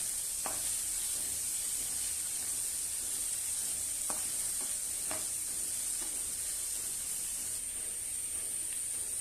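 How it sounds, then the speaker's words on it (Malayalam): Sliced onions frying slowly in a pan until light brown, a steady close sizzle with a few faint stirring taps, no voices. "പതുക്കെ ഇങ്ങനെ സവാള ഒന്ന് ചെറിയൊരു ഒരു ബ്രൗൺ കളർ ആവുന്നിടം വരെ നമുക്കിങ്ങനെ ഫ്രൈ ചെയ്തെടുക്കാം"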